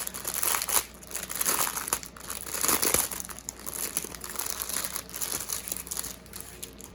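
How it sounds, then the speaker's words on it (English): Crinkly plastic packaging of rhinestones being opened and handled up close, a run of sharp crackling and rustling bursts that come and go over several seconds, without speech. "I'm gonna open these rhinestones up."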